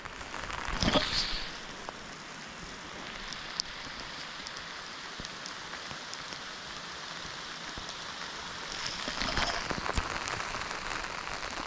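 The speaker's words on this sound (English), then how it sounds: "Getting rained on here." Steady rain patters over a forest campsite, a soft continuous hiss with scattered drop hits that swells slightly near the start and again toward the end, with no talking.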